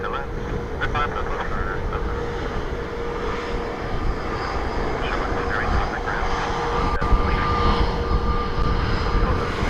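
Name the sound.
Ryanair airliner landing on runway 28 at Dublin Airport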